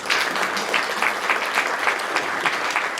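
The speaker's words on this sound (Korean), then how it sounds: "이분들에게 박수 한번 보내주십시오." Applause from attendees at a provincial committee meeting in a hall, steady close clapping with audible individual claps throughout.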